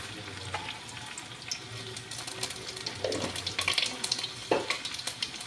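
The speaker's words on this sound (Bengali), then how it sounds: "এবার আমি তেলের ওপরে শুকনো লঙ্কা আর পাঁচফোড়ন দিয়ে দিলাম।" Dry red chilies and panch phoron crackle and sizzle faintly in hot oil in a home kitchen, with a steady soft fizz broken by a few sharper spattering pops and a stirring scrape.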